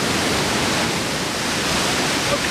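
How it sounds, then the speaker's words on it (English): Steady, broadband roar of the La Paz waterfall in Costa Rica during rain, a constant rushing wash of water with no breaks or voices. "Okay, I'm at the La Paz waterfalls."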